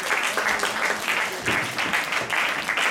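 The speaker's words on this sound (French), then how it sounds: "On peut les applaudir." Steady applause from an audience at a French film screening event, dense continuous clapping held at an even level throughout.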